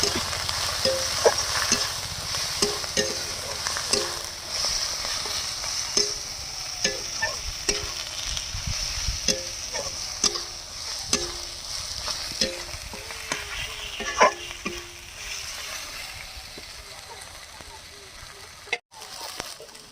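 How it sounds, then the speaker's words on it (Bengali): Spices with chili and cumin powder are stirred and fried in a pan, a soft continuous sizzle with repeated scraping strokes of a spoon, while a person talks quietly over the cooking. "ভালো করে এবারে মশলার সাথে মিশিয়ে নিতে হবে"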